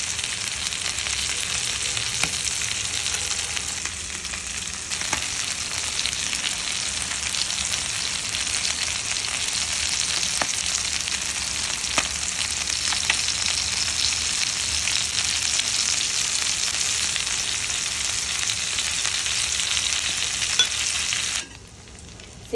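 Chicken tandoori sizzles steadily in a mix of ghee and oil, a dense, even frying hiss that holds for about twenty seconds before cutting off abruptly near the end.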